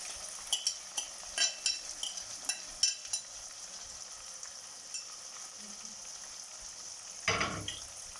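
Spices, kasuri methi, red chili and turmeric, frying in a pan for a dhaba-style chana dal, with faint sizzling and a series of close utensil clinks and scrapes, then a louder burst of sizzle near the end.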